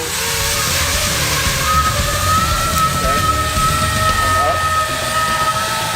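FPV drone motors running on AA batteries give a steady, loud whine that holds throughout, with the pitch dipping and shifting slightly as the throttle eases for a gentle roll.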